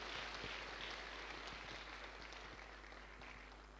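Applause from a seated audience at a motivational business talk, a faint, even wash of clapping that holds steady and fades slightly over a few seconds, with low hum beneath it.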